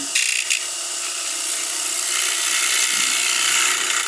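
A sharp turning gouge with a 55-degree bevel shears a pine bowl turned from a 2x4 on a wood lathe, giving a steady, close, loud hiss and rasp that holds for the whole stretch, with no talking.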